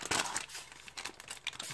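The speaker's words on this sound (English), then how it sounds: "Sorry if this foil is making noise." Aluminium foil crinkles and rustles close by in short, uneven bursts, handled while preparing food.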